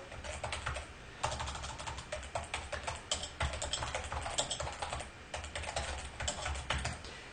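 Rapid, continuous clicking of keys on a computer keyboard, typed in irregular quick bursts close to the microphone, fairly quiet and with no talking.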